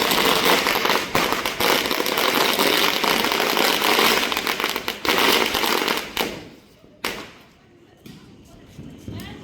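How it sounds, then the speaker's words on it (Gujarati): A 1000-cracker string of firecrackers set off for Diwali, bursting in a loud, dense, rapid crackle for several seconds before thinning out to a few scattered pops and fading. "માસાએ 1000ની લૂમ અત્યારે મૂકી દીધી છે કમ્પ્લીટ એકદમ"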